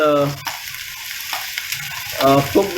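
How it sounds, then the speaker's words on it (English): Two finely chopped medium onions fry in hot oil with a loud, close sizzle, while a voice talks over it at the start and again near the end. "So now what I'll be doing is I'm putting two medium onions, medium sized onions. They are finely chopped"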